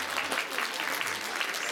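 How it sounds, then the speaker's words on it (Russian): Steady audience applause at a New Year concert in a Moscow cultural center, dense clapping that continues evenly throughout. "им нужна ваша поддержка и громкие-громкие аплодисменты"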